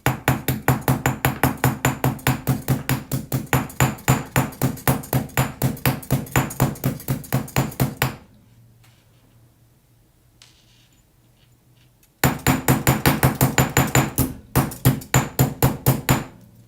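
Small hammer striking jewelry wire at a workbench, a fast steady run of sharp metallic taps for about eight seconds, a pause with faint low hum, then another quick burst of evenly spaced blows.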